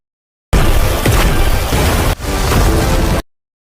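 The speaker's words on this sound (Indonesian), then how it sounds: "water ball gabungan miliknya dan juga Naito dapat menembus hingga membuat banyak sekali pohon tumbang di sana" An anime water ball blast rips through a forest and knocks down many trees: a loud, dense roaring burst that runs about three seconds, breaks off briefly, then surges again before cutting out.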